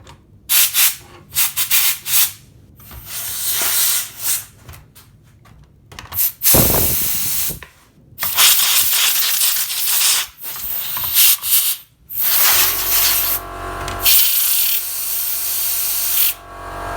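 An air blower rushes in loud bursts while dust is cleaned out of a PS4 console, cutting in and out with short gaps and ending in a steady mechanical whir with a low hum.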